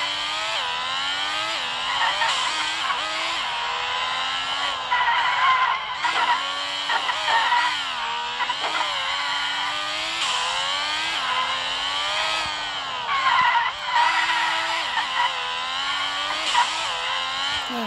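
A Crown Victoria in the Legendary Cars mobile driving game makes a loud, continuous tire squeal and engine whine, rising and falling in pitch through long sustained skids with no let-up.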